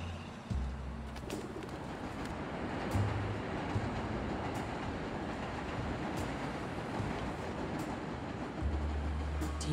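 The elevated 7 train rumbles steadily overhead in Jackson Heights, New York City, a continuous low roar of wheels and rails filling the street for ten seconds, with faint clicks and pigeon-like chirps scattered through it.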